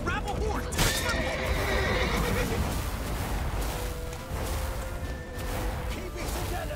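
A horse neighs loudly near the start of a Witcher 3: Wild Hunt scene, with hooves and battle noise rolling continuously underneath and people shouting throughout.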